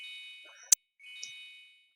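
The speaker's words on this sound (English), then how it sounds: "Like when it lands, it actually makes this gong sound." In the Yes! Pretty Cure 5 GoGo video game, a landing attack gives a bright metallic ding-like strike, one short sharp hit between sustained ringing electronic tones that fade out.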